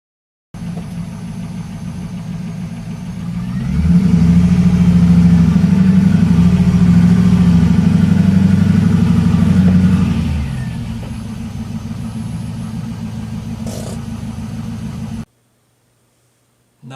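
A Pontiac Trans Am WS6 V8 idles, then builds to a steady, louder rumble for several seconds as it creeps onto Rhino plastic car ramps in a garage, before settling back to idle and cutting off abruptly.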